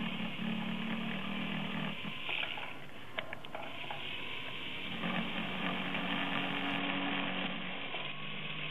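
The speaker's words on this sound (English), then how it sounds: "Insert the small round burr and grind a small depression on the mark." A small round ball burr grinds a shallow depression into a small metal end cap, a steady high-pitched rotary whine that holds throughout with a brief dip partway, loud and close with no voices.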